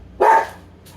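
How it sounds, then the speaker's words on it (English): One short, sharp dog bark close by, followed by quiet. "Okay, I think they're done barking."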